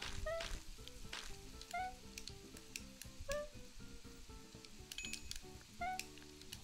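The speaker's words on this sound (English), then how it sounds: "let's cook a steak" A steak sizzles on the grill in the cooking game PlateUp!, a steady fry hiss mixed with bright game chimes and beeps, at fairly low volume.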